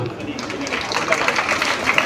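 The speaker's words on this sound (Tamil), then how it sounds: "இதை கேட்டுட்டு போடுங்க ஒரு கைத்தட்டு" An audience claps at a school Republic Day celebration, a brief, moderate patter of applause mixed with a voice and hall noise.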